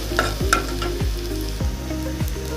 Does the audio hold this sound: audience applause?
no